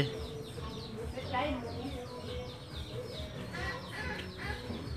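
Chickens and ducks kept at a village house in Muong Lay, Vietnam, cluck and call steadily at moderate distance while people talk over them throughout.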